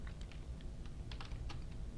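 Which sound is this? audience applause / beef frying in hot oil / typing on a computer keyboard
typing on a computer keyboard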